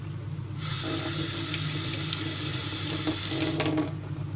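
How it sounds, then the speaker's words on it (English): Water draining off washed rice into a sink while cooking chicken rice, a steady rushing pour that starts abruptly and runs continuously, close and fairly loud. "They're just going to drain the water."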